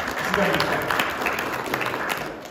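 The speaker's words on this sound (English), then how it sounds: "Let's give them a round of applause." An audience claps together at a casual live reading, a steady crowd of hands that swells early and then eases off slightly, with a voice faintly under it.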